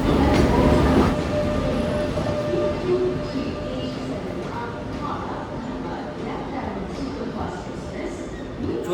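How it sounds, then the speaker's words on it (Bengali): The Black Diamond Express passenger train arrives, rumbling steadily with low rail noise and faint clatter, loud at first and then settling, with a voice speaking over it. "এসছে আমার ট্রেন ব্ল্যাক ডায়মন্ড এক্সপ্রেস"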